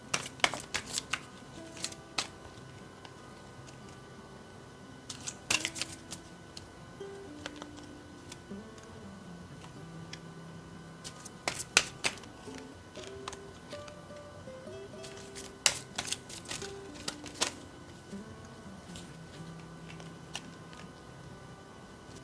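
Tarot cards being handled for a reading: soft sporadic card flicks and slides, with a few sharper snaps in small clusters over a quiet, low hum, and no talking.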